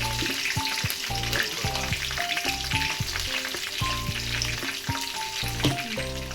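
Curry leaves spluttering in hot oil for a tomato chutney, a continuous crackling sizzle with sharp pops throughout, close and fairly loud, with no talking.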